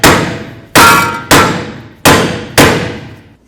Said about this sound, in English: I'm going to bonk right along here with my hammer and just try to separate the two